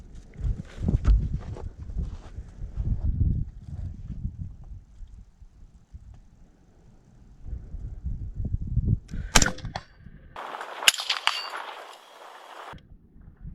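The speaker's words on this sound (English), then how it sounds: "I'm going to send a text message, and this is going to shoot that steel plate out there" After shuffling and footsteps outdoors, a gun fired remotely by a cell phone text message goes off with one sharp crack, followed a moment later by a bright metallic clang from the distant steel plate target.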